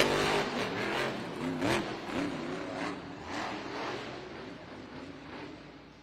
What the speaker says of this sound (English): That is a great sound to hear with the engine firing.